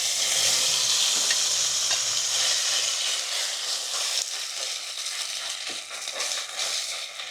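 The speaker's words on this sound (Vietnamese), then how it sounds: "Dầu đã đủ nóng rồi thì mình sẽ cho gà vào để chiên." Chicken pieces fry in hot cooking oil in a pan for Kung Pao chicken, making a loud, continuous sizzle with bursts of crackle and spatter that ease off slightly toward the end.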